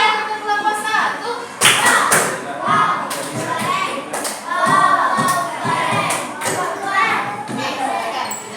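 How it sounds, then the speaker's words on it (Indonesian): A classroom group of children claps in a patterned cheer, sharp clap bursts and thumps mixed with excited children's voices and chanting, loud and close. "Tepuk tangan untuk kelompok 1."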